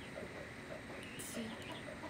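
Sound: chickens clucking below the house

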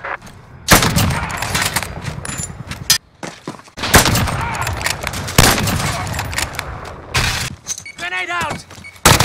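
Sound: gunfire in Call of Duty Modern Warfare video game

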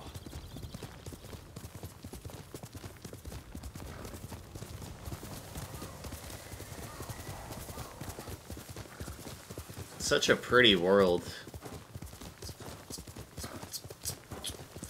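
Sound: horse galloping in video game Ghost of Tsushima

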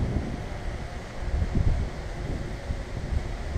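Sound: wind blowing into the microphone

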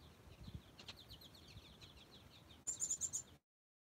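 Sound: goldfinches chirping in a tall tree

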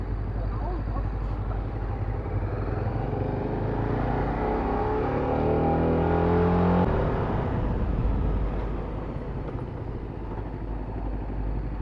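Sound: vehicle engine running with cooling fan on

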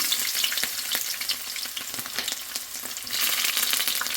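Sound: spices and garlic frying in oil for spicy chicken

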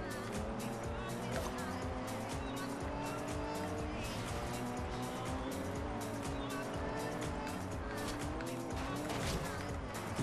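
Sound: car engine driving in Forza Horizon 2 cross-country race (video game)

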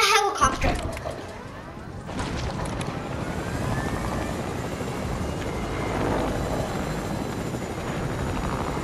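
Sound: helicopter in a video game

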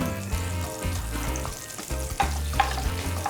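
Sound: stir-frying with garlic in a pan

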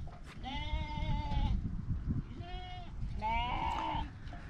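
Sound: sheep bleating

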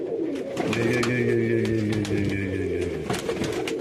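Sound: marbled crested Baku pigeon cooing

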